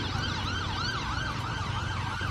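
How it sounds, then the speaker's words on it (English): An ambulance siren wails continuously as it passes along a road in Chadwell Heath, its rising and falling tone fairly loud over low traffic rumble. "I'm just going to let this ambulance go past because of noise"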